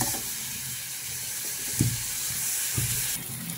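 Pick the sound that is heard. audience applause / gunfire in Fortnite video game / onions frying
onions frying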